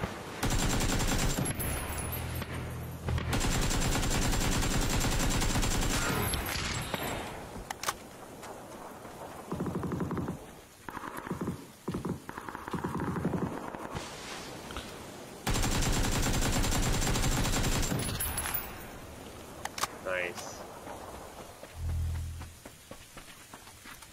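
Gunfire in PUBG, with repeated bursts of automatic rifle fire and single cracking shots, some close and loud, others distant, broken by short quieter gaps over about twenty seconds.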